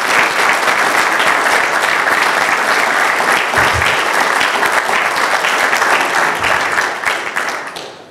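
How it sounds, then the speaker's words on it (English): Loud, dense applause from an audience at an electrical engineering senior design presentation event, a sustained wash of clapping that holds steady and then tapers slightly at the end. "I did want to take one more chance to get a round of applause for all the hard work that the engineers and the faculty put into this whole program"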